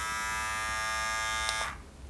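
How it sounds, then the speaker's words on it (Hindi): A Nova NG 1153 electric body trimmer runs with a steady, high-pitched motor buzz close up, then abruptly cuts off, leaving a faint room hush; no one speaks. "यहाँ पर बीच में आपको एक पावर बटन दिया हुआ है जिसकी हेल्प से आप इसको ट्रिमर को ऑन ऑफ"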